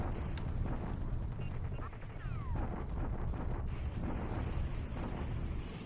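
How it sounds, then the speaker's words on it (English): Artillery bombardment in War in the Pacific AE, a steady, loud rumbling roar of distant shelling with dull blasts blending into a continuous barrage. "And then the usual bombardment up north."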